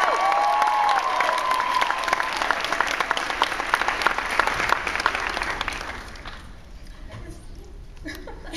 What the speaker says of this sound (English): Please give a round of applause for executive producer Craig Silverstein.